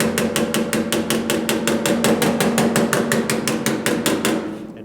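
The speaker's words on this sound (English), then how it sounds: "I think I'll use the round-faced hammer so I can just tap lightly" A round-faced hammer taps lightly on a dented car body panel of a GTO, striking about four times a second in an even, ringing metallic rhythm, close up and unbroken.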